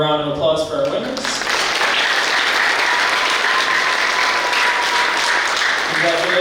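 An audience at a 6th grade graduation ceremony applauds award-winning students, loud, dense clapping filling the room after a brief spoken line at the start.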